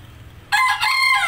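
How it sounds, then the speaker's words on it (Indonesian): A rooster crows one loud, close cock-a-doodle-doo that bursts in after a short quiet lead-in and rings on without any talk over it. "ya seperti ayam ini keluar suara"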